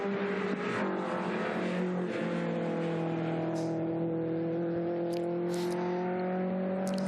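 Classic race car engines at the Le Mans Classic drone steadily throughout, a sustained loud tonal engine roar with layered harmonics and a few brief higher bursts near the end, no talk.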